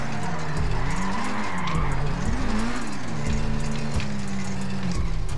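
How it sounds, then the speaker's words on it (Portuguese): Tires skidding and squealing in the GTA video game, a loud continuous screech with wavering pitch over a revving car engine, close and sustained throughout, with no talking. "Agonia que dá esse pneu rastão no chão, velho."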